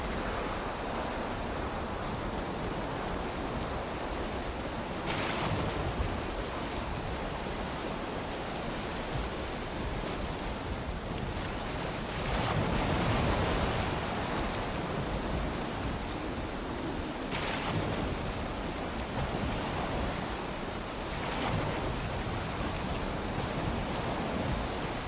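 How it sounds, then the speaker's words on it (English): Steady broadband wash of wind and sea waves while sailing a boat in Valheim, a continuous surf roar with gusty swells rising and falling, no talk. "there's a little bit of wind"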